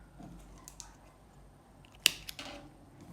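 Scissors snip crochet yarn at the end of a round of an oval table runner: a single crisp close cut among faint handling noises in a quiet room.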